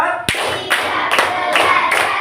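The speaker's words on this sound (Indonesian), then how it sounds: "Tepuk 1, tepuk 2, tepuk 3, tepuk 4." Classroom of students clapping in a counted rhythm, a few sharp group claps spaced about half a second apart over a steady murmur of voices.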